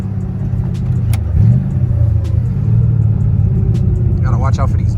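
A 5.4-liter truck V8 swapped into a New Edge Mustang rumbles steadily and close as the car drives, a deep continuous engine drone with slight surges, while voices talk over it.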